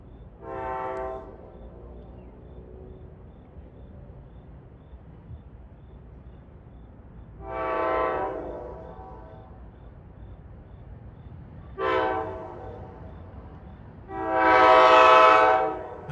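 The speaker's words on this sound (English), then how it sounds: "here comes 1263, Hoboken to Waldwick. Looks like he's got another F40 on him." An NJ Transit diesel train hauled by an F40 locomotive, running Hoboken to Waldwick, sounds its horn in four loud blasts, short ones followed by a long final one, over a low steady rumble of the passing train.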